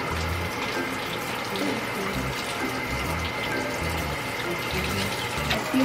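Steady splashing water from wrung-out clothes runs continuously for several seconds, like liquid streaming and dripping heavily, fairly close and unbroken, with no talking.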